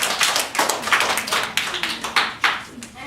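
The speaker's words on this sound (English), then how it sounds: "Clap for Kate or no?" A small group claps in irregular, slightly uneven bursts, a dozen or so close, sharp hand claps over a few seconds with some voices underneath.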